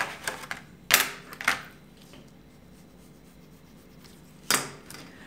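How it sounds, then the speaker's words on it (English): A knife or blade trims the edge of a leather shoe stiffener, giving a few short crisp scraping cuts spaced irregularly, then a quiet pause and one more sharp cut, close and alone. "Now, right now I will cut the edge, then I will reduce it"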